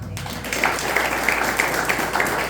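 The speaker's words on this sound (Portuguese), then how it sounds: "Louvemos o nome do Senhor com as palmas." A church congregation claps during a Sunday praise and worship service, starting abruptly and settling into a steady, roomy patter of many hands with faint rhythmic accents.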